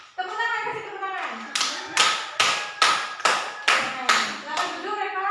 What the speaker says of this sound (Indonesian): Ya, tepuk tangan, kasih tepuk tangan.